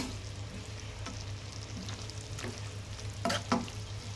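Tomato curry with coriander leaves is stirred in a pan, giving a faint, quiet simmering fizz and a few soft scrapes that grow briefly louder near the end.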